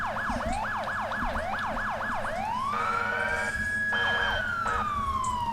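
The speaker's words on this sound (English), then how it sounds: "you have to hold it on for the siren to come on" A police vehicle siren from a video game fitted with an ELS lighting mod cycles through a fast yelp, then a long rising wail, then brief yelps again, loud and continuous over engine noise.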